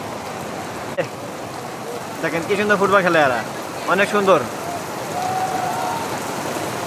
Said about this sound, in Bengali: বৃষ্টি অনেক বাড়তেছে